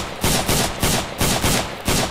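Loud, close rapid gunfire in a Vietnam-era MAC-V SOG combat game, with repeated bursts at an even, fast rhythm as fire opens on a grass line; no voices.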